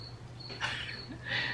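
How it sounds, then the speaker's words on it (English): Faint night crickets chirp in thin high bursts, mixed with a couple of brief rustling noises over a low background hum. No one speaks. "I love the sound of crickets"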